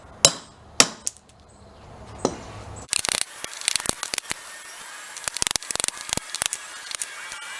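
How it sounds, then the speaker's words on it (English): Old aluminum pistons being busted into pieces, sharp metallic whacks ringing out one at a time, then a faster run of crisp cracks and clatter close by. "we got some of that aluminum busted up"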